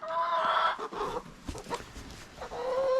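Chickens cluck and call close by in a coop, with a drawn-out crowing-like cry at the start and end and scattered clucks in between.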